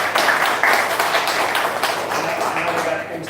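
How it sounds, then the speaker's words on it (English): A small group in a room claps for a guest, a brief round of close, moderately loud hand claps that gradually thins out, with chatter underneath. "I think we owe a round of applause for being here"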